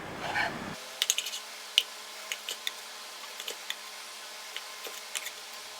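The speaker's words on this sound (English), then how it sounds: "we're going to dice that nice and fine" A knife taps crisply on a cutting board while dicing tuna eye muscle finely for tartare, a series of light, irregular, close chops that follows a short bit of handling noise.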